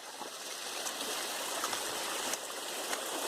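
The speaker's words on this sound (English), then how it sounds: "It's like a waterfall." A small waterfall stream beside the Appalachian Trail on a thru-hike, a steady close rushing wash of water with no talk.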